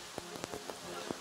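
Rain at an outdoor compound archery team competition in Shanghai: a steady wash of falling rain with scattered soft patters and drips, fairly quiet.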